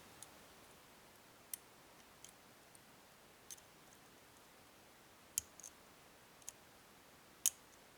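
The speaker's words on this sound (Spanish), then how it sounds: "Ahí un ligero clic en el segundo." Sparse, faint metallic clicks from a Mottura lock cylinder being picked with a tension tool, isolated ticks scattered irregularly over a quiet background, with a sharper click near the end.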